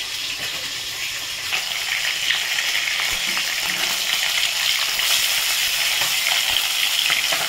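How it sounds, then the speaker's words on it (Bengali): Fish frying in mustard-oil sauce as its second side cooks, a steady dense sizzle and crackle holding at an even, fairly loud level throughout with no voices. "মাছটা এক পিঠ হয়ে গেছে, আর এক পিঠ ভেজে দিচ্ছি।"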